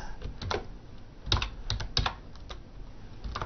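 Typing on a computer keyboard: irregular bursts of quiet, close key clicks with short pauses between them.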